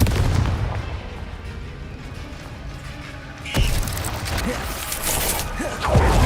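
Hogwarts Legacy Confringo and Bombarda spell blasts: a sharp explosive boom mid-way followed by crackling bursts and rumbling impacts, loud against a busy game background, with faint talk underneath.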